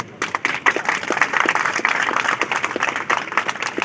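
Audience applause fills a teachers' day celebration at a school hall: steady, dense clapping from many hands, continuous and fairly close, with no talk over it.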